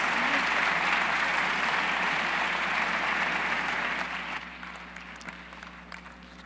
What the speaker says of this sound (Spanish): Así que le damos un aplauso y recibimos a Ramón Muñoz.